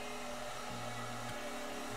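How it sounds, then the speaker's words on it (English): Steady broadband whoosh of an air dryer blowing on a dog named Cleo during a bath in Animal Shelter Simulator, a continuous close hum with a low drone that briefly dips and shifts pitch twice, no voices. "Cleo seems to really like the dryer. The air dryer"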